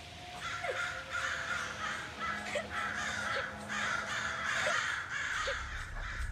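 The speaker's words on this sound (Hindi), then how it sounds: "कौवे" Several crows caw repeatedly in the video game Raji: An Ancient Epic, their harsh, scattered calls sounding over a steady ambient background.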